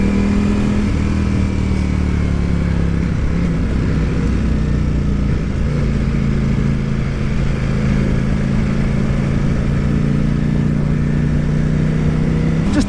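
A Ducati Panigale V4 S ridden on a public road, its engine droning steadily with a low, sustained hum that rises and eases gently under continuous wind rush, heard from the rider's position.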